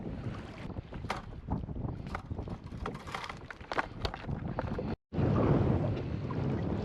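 Wind gusting across open ocean water while crabbing off Ocean City, Maryland, a buffeting rush against the microphone that swells louder near the end, with small knocks and splashes from the boat.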